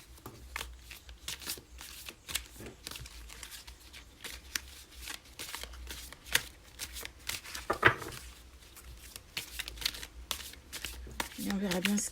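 Tarot cards are shuffled in quick, crisp riffles and slaps, a rapid irregular patter close to the microphone, while a voice speaks softly over it.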